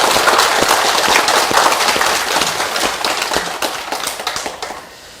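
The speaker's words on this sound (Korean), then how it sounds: "다들 고생 많으신 그분들한테 박수를 좀 보내주시고" An audience at a Buddhist meditation retreat claps in dense, sustained applause that starts full and gradually thins and fades out toward the end.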